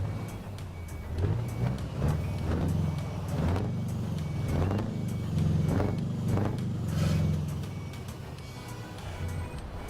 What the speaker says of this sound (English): Actually, can I move my truck then?